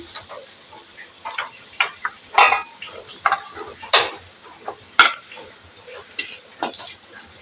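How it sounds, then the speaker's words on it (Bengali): Cinnamon and black pepper frying in hot oil in a pan, a soft continuous sizzle punctuated by sharp crackles, pops and the scrape and clink of a stirring utensil against the metal pan. "কোঁড়ার মধ্যে দিয়ে দিচ্ছি দারচিনি আর একটু গোলমরিচ দিয়ে দিচ্ছি"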